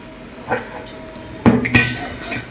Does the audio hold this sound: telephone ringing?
no